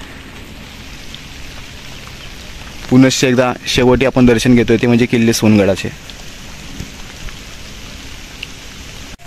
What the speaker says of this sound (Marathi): जूनची वाट न बघता पावसाने हजेरी दिलेली आहे